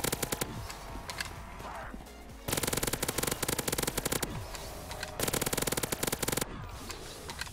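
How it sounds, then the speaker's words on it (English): Weapon fire in a Call of Duty custom zombies game, rapid bursts of harsh automatic gunshots in two long strings with brief pauses between, loud and close, with faint game noise in the gaps. "cannot be the only person that absolutely hates the sound of that weapon"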